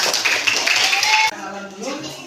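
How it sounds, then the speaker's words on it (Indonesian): A classroom group of teacher trainees gives a brisk burst of hand-clapping for a team; the dense, steady applause lasts just over a second before a voice starts talking. "Kasih tepuk tangan buat kelompok 5."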